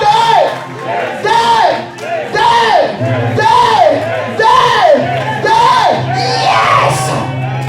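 A church congregation cheers and shouts loudly, with rising and falling voices and whoops over a steady, dense crowd roar that runs throughout.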